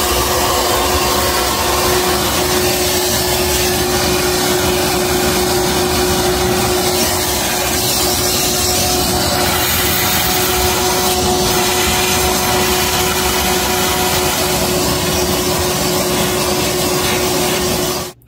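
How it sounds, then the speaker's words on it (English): A vacuum cleaner runs continuously behind a Samsung refrigerator, a loud, steady whooshing hiss with a constant motor whine that lasts about eighteen seconds before cutting off abruptly. "Well, while I'm back here, I'm gonna vacuum this out."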